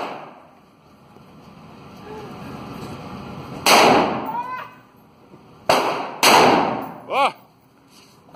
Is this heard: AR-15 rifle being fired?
yes